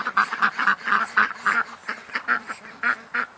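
A group of ducks quacks in a quick, steady run of close, fairly loud calls, roughly a dozen short bursts in a few seconds with no voices over them.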